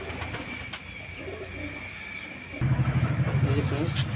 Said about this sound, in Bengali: ভিডিও করার জায়গাটা একটু ছোট বলে পায়রা ভয় করছে